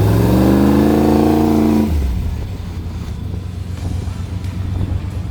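Off-road rig on a desert trail at Trail Hero, its engine revving hard for about two seconds with a rising, loud roar, then dropping to a rougher, lower drone with wind buffeting the microphone.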